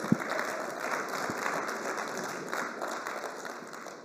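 Scattered applause from an audience at a business event, fairly faint and continuous, with a few sharper claps standing out near the start.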